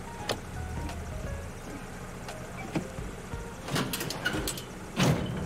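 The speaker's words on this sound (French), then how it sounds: "On va ouvrir la porte de l'avion." An airplane door opens in the AirportSim ground-handling video game: a series of mechanical clicks and thumps, then a louder rattling clunk near the end, over a low background hum.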